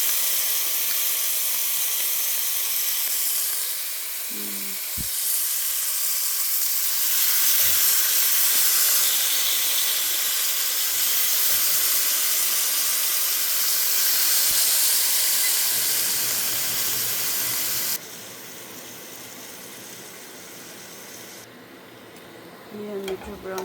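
Chicken pieces frying in a pan for adobo, a steady sizzling hiss sustained throughout, with a few clinks and a drop in intensity near the end.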